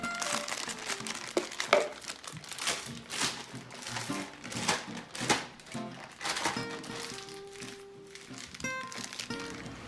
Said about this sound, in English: I have a plastic pastry bag, a piping bag.